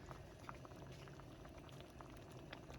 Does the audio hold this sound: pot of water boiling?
yes